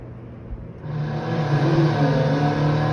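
Racing car engines in a PS2 racing video game, a whirring engine tone that swells and revs upward after a quieter start, steady and close with no voices.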